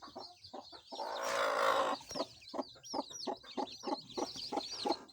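Young chickens in a brooder give rapid, repeated clucks and cheeps close by, with one brief burst of rushing noise partway through and no talking.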